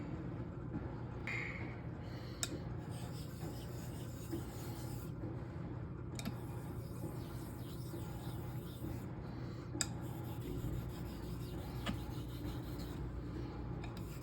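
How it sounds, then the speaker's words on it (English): Straight razor being honed on a 5K Zulu Grey natural stone, with soft repeated scraping strokes and occasional faint ticks, quiet and close. "we'll start honing on the 5K"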